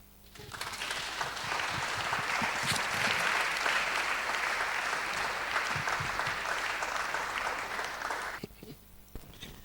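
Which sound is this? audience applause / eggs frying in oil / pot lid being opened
audience applause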